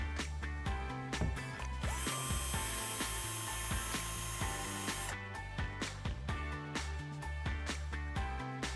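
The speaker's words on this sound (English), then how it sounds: "Next, it's time to drill the holes." Power drill boring holes for curtain pole brackets, a sustained high whine of drilling in the middle, framed by repeated close mechanical clicks and knocks, no talk.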